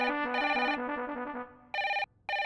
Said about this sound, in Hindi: कोई फोन उठाओ।